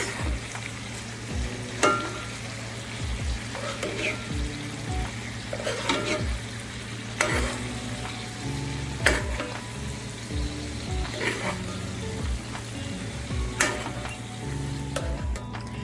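A ribeye steak sizzles steadily in a pan while being basted. Spoon clinks and splashes of hot fat recur every couple of seconds over a constant close fry, with no talking.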